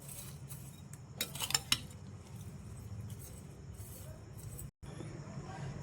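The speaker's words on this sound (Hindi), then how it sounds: "अब इन फ्रूट्स को मैं अच्छी तरह से मिक्स कर लूँगी।" A spoon stirs cut fruit for fruit chaat in a bowl, giving close clinks and scrapes that bunch into a louder burst near the start and then settle into soft, irregular taps.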